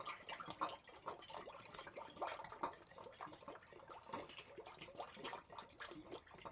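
Tesco apple juice poured into a container for homemade strawberry and lime cider, a steady close-up gurgle and splash of liquid running continuously for several seconds with no talking.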